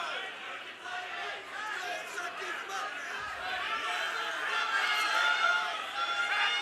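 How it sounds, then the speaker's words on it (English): An arena crowd at a fight night roars and chatters continuously, swelling louder toward the end with scattered shouts and cheers blending into a dense, distant wall of noise. "You hear a lot of screams and anxious fans"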